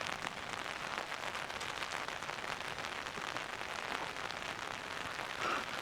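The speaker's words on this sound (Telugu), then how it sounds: "వర్షం పడుతూ ఉంది, నేను నడుస్తూ ఉన్నా." Steady rain falling in a dragon fruit garden, a dense, even patter of drops continuing throughout at moderate level, with no talking.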